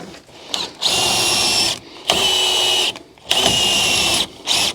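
A power drill drives a screw down against a washer in three long, loud whirring bursts with a brief fourth at the end, separated by short pauses.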